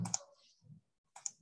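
Computer mouse clicks pinning a window to stay on top, two crisp close clicks about a second apart with a faint soft rustle between them and no talking.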